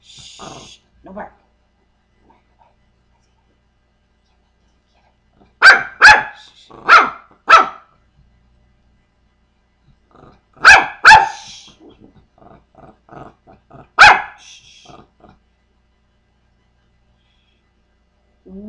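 Pomeranian giving sharp, close barks in two short bursts of three or four yaps with quiet gaps between, plus a few soft snorts and grumbles.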